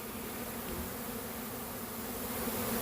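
A dense honeybee swarm of about ten pounds drones steadily in a bee yard, a continuous close buzzing hum that stays even and loud throughout.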